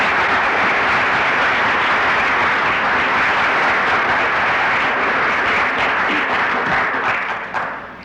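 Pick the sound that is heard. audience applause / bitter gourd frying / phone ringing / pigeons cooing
audience applause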